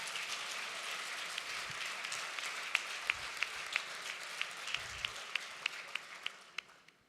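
Applause from a political party congress audience fills the hall steadily, with a few distinct sharp claps near the end as the clapping thins and fades out.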